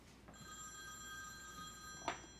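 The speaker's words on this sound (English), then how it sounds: "Is that your phone or mine?" A telephone rings with a steady electronic tone, clear and sustained through most of the moment in a quiet room, with a brief rustle near the end and no talking.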